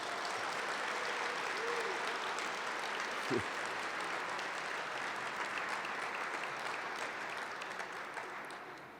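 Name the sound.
applause for the weekend's organizer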